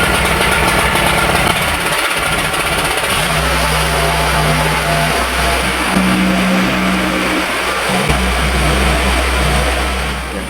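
A portable generator engine runs loud and close for the whole stretch, a steady droning rumble that shifts pitch a few times as the load changes, with no talk.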